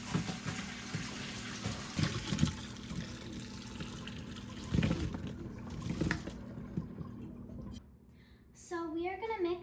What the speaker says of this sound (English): I'm going to take the apples that we have in our solution and start to drain them.